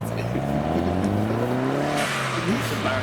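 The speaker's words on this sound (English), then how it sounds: "So a few accelerations, a bit of sound of a huge variety of cars leaving the PistonHeads Sunday Service." A wide mix of cars, including Porsche 997, 996 and 991 models, accelerating away from a Sunday car meet, engines rising steadily in pitch through the gears, loud and continuous with overlapping exhausts.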